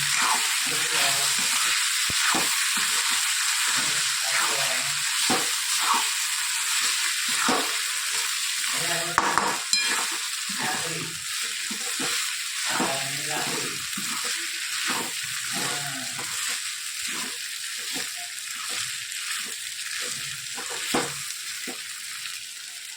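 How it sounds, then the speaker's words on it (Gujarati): Bitter gourd curry sizzling and frying in a pan while being stirred and mixed, steady hiss with repeated scraping strokes of a spoon, close and continuous for the whole stretch. "સરસ બધું મિક્સ કરી લઈએ."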